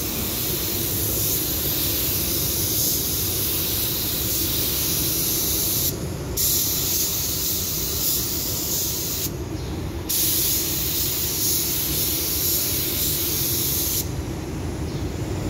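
A spray gun applying a coat of car paint, a steady close hiss of atomised spray, briefly cut off in three short pauses, no talk.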